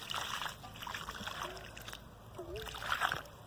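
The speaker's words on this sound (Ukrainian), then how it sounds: "і відразу виливаємо літерку води." About a liter of water poured into a tomato planting hole in open garden soil, faint splashing and trickling bursts spread across a few seconds, with speech alongside.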